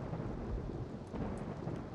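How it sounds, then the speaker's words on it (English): Steady rain with low rumbling thunder from a Rollercoaster Tycoon 3 theme park, a continuous faint wash of drops and distant rolling rumble with no talk. "it's raining again"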